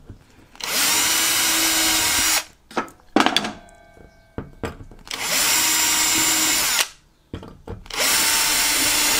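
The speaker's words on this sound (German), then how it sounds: "jetzt können wir die natürlich weiter durchbohren" Power drill boring through wood in a workshop, three sustained loud high-pitched bursts of a couple of seconds each, separated by short pauses with clunks and handling noises.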